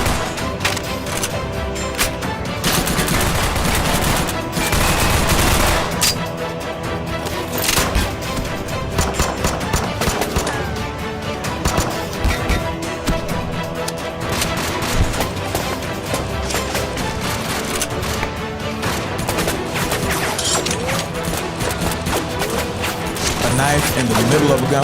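Dense bursts of animated gunfire fill a chaotic gunfight, rapid volleys and sustained automatic shots layered with loud booms and crashes, continuing almost without pause throughout.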